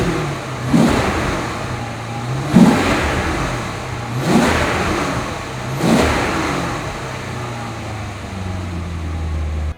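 A 2005 Maserati Spyder Cambiocorsa revs four times in a steady rhythm, each throttle blip swelling into a loud roar and dropping back to idle, close up with no talking.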